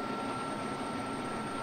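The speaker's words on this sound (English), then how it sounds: "Oops, I went to the afterburner." A jet engine roars on afterburner in the Falcon BMS flight simulator game, a dense, steady rumble that holds at one level and has no speech over it.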